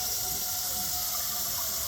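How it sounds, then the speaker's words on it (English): Water runs steadily from a tap into a cooking pan in a home kitchen, a constant close splashing hiss with no talk over it. "we put water on the pan."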